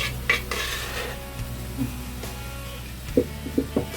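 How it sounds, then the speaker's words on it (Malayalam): A spoon stirs cheera greens in a cooking pot for a rustic home recipe, scraping steadily under a low background hiss, then a few sharp metallic clinks against the pot near the end. "ഇനി നമുക്ക് നന്നായിട്ടൊന്ന് ഇളക്കി കൊടുക്കാം"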